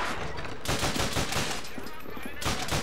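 Rapid gunfire in Call of Duty: Finest Hour, dense continuous bursts of shots filling the whole stretch, loud and close with only short dips between volleys.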